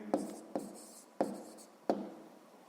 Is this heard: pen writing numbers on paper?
yes